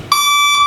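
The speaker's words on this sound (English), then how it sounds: "I forgot the buzzer was on." A loud, steady electronic truck reversing buzzer sounds close up, starting abruptly and holding one harsh pitch for under a second.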